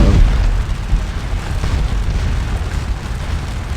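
Artillery fires in Scourge of War Waterloo at the Sunken Lane, a rumbling stream of booming cannon blasts that roll on continuously, with a heavy bang at the start and at about one second.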